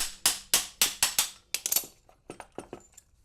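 Sharp metallic taps from an improvised hammer striking BMW 335i E90 suspension parts during a shock and strut change: a regular run of about six loud, close knocks, then a looser cluster of lighter taps that fade out.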